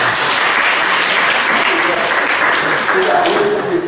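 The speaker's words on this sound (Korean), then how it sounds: "박수 한번 쳐주세요." A church congregation applauds, with dense, steady clapping from many hands that fills the room loudly for the whole stretch.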